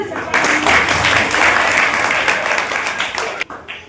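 An audience at a school stationery distribution event applauds a speaker named Rajendra Babu: a loud, sustained wash of clapping that thins out toward the end.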